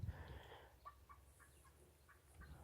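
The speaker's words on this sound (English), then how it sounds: "Over on that other side of the pond, I can hear turkeys." Wild turkeys cluck and gobble from across a pond, a faint, distant series of short calls spread over a few seconds.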